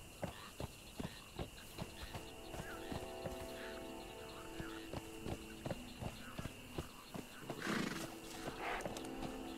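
A horse in the video game Conan Exiles clip-clops along with steady, evenly spaced hoofbeats, then gives a loud whinny near the end, heard against a quiet ambient background.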